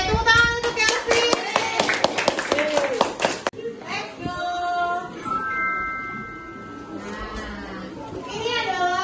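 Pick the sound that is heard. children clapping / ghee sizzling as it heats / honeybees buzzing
children clapping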